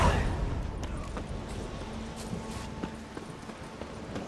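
Horse hooves clip-clopping in The Witcher 3: Wild Hunt, a moderately close, steady walking rhythm of hoof beats over faint ambient game sound, gradually softening as it goes.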